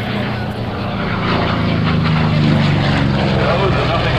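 A propeller-driven FG-1D F4U Corsair fighter runs its piston engine at an airshow, a loud, steady drone that builds slightly and holds throughout.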